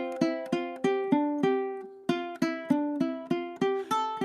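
A ukulele plucks a steady run of single notes, evenly spaced and fairly quick, each with a bright attack and short ring, close and clear with no talking.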